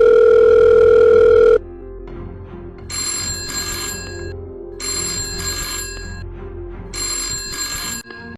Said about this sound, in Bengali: আমি আইএসআরওর চিপের কাছে ফোন দিচ্ছি।